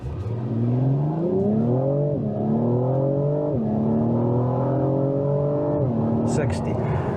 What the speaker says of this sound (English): do kind of 0 to 60 to see how this vehicle accelerates